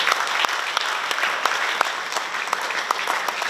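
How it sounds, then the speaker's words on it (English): Applause from the audience at a graduation ceremony in Pohnpei, a moderate wash of clapping with a few sharp, distinct claps standing out near the front. "Let's give him a big round of applause."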